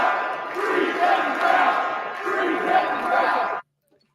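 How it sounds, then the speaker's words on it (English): Orioles fans at Camden Yards chant in unison during a baseball game, a rhythmic crowd roar recorded from within the stands on a phone, steady for about three and a half seconds before cutting off abruptly. "Orioles fans at Camden Yards who started a free Kevin Brown chant during last night's game"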